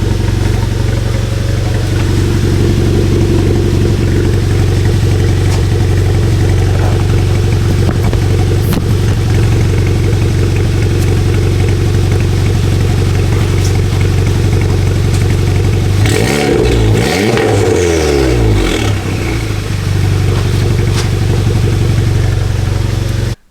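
A Volkswagen GTI with a valved exhaust runs steadily with the valve closed, giving a loud, continuous low engine drone that briefly swells and wavers partway through, with no talking.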